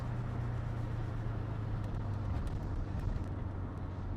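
A Subaru Impreza WRX STI Version 6 engine drones steadily after a downshift, a low, fairly quiet rumble that holds even for several seconds with no talking.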